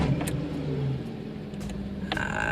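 A Ford Ka engine starts up for the first time, a low rumbling idle with a slight rise in revs heard up close inside the car, with faint clicks and no voices.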